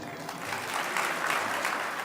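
Audience applause greets the introduction of a government minister at an embassy's Throne Day ceremony in Abidjan, a steady moderate patter of many hands across a hall, lasting about two seconds with no clear talk over it.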